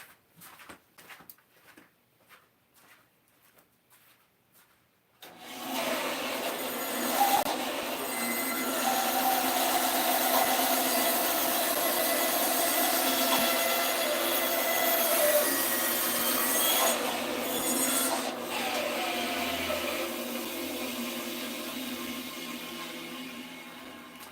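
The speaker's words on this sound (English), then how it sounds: "I need to go cut this on my bandsaw real quick." A bandsaw cuts a wooden toy piece with a loud, steady whining drone that runs for about twenty seconds. Before it, a few faint clicks sound in a quiet room.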